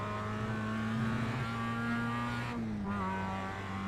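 A Mazda MX5 race car in iRacing powers out of a corner at Okayama, its steady, buzzing engine note holding loud and close before a brief dip and pitch shift partway through, then resuming.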